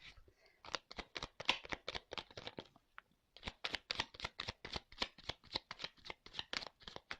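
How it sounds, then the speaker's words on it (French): Tarot cards being shuffled by hand, heard close and quiet as a steady run of crisp riffling flicks, broken by a short pause before the rapid shuffling resumes. "Je prends 2-3 cartes."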